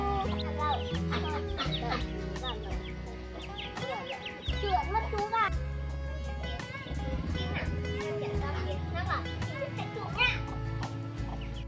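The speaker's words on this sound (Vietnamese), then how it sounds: "Ba thấy có chú gà trống rồi đấy." A rooster clucking in a rural yard while people try to catch it, with short clucks scattered under ongoing talk and children's voices.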